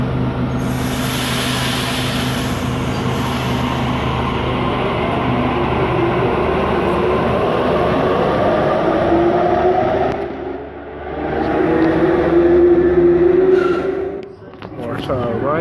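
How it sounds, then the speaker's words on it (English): A Waratah electric train pulls into a Sydney station platform, its loud rumble and rising motor whine close at hand, then the roar eases and swells again before settling; voices can be heard underneath. "Waratah arriving to platform number 2."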